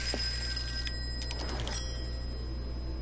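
A telephone rings in a detective video game, its bell bursts repeating over a steady low hum with no voices.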